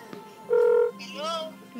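Phone being dialed to call someone, a single long steady tone followed by a short warbling electronic tone, fairly close and clear with no talk.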